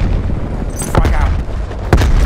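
Frag grenades go off in Call of Duty: Black Ops Cold War, two heavy booming blasts about a second apart over a loud rumbling battlefield backdrop.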